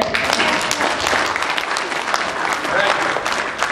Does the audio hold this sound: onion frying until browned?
no